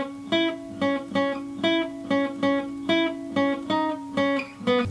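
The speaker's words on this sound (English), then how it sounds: "Maybe it's a keyboard with some cool like effect on it," A keyboard run through an effect plays a short repeating riff, the same few bright notes looping in a steady rhythm over a sustained low tone, clear and alone with no voices.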